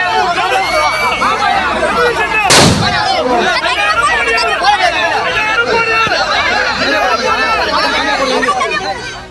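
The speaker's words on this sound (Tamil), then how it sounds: "வேட்பாளர் செழியனுக்கு பொதுமக்கள் மற்றும் நிர்வாகிகள் பட்டாசு வெடித்தும் ஆரத்தி எடுத்தும் மாலை அணிவித்தும் உற்சாக வரவேற்பை அளித்தனர" Firecrackers burst at a village welcome for an election candidate, one loud sharp bang standing out over continuous crowd chatter and festive commotion.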